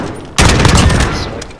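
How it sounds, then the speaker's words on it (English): Burst of gunfire in a Search and Destroy round of a first-person shooter, fired through a window: a loud, dense volley starting abruptly and rolling on for over a second. "I'm shooting them through the fucking window."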